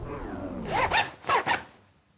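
A zipper is zipped in a few quick rasping pulls, close and distinct, rising from quiet rustling to three sharp zipping strokes before fading.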